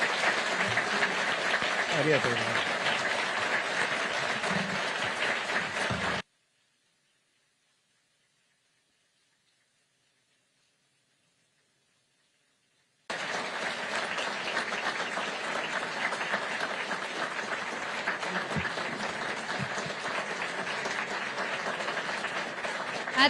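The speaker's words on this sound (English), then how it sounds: "Let's give him one last round of applause and real thanks." Sustained applause from a large crowd after the Japanese Prime Minister's speech in Washington, steady and dense, breaks off into silence for several seconds, then resumes just as loud; a brief spoken thanks is heard.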